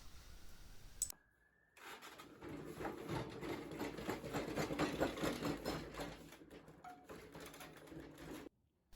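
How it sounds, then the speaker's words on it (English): Bandsaw cutting a circle out of white oak, a continuous buzzing blade rasp with fluctuating intensity that runs for several seconds after a brief start, then stops abruptly; close and alone, no voices. "cutting that out on the bandsaw"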